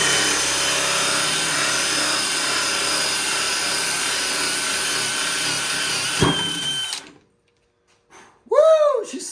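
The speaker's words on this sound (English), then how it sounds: "I'm just going to drill a hole in this scrap piece of wood" Power drill whirring steadily and loud while boring a hole in scrap wood, then cutting off abruptly; after a pause a voice speaks briefly.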